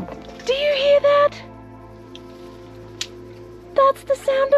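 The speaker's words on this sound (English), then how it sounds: "That's the sound of my fan going." A ventilation fan in a step van conversion runs with a steady, close motor hum. Brief high whistling tones rise over it near the start and again at the end.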